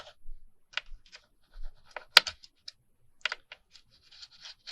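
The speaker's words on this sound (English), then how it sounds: "we're going to cut the top of the envelope off" A blade scores through a paper envelope along a ruler, producing short, quiet scratching strokes and small clicks spaced irregularly, close and alone in a silent room.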